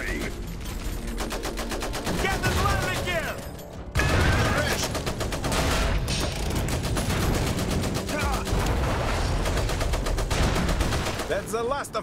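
Video game cannon fire and gunfire: rapid bursts of gunfire and heavy booming shots crackle in quick succession, loud and nearly continuous, with a brief pause before the barrage resumes.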